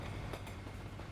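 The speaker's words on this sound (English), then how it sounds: "Oh, there's the train." A train in Euro Truck Simulator 2 rumbles past, a low, steady, faint rolling drone with no distinct clacks, heard alone without voices.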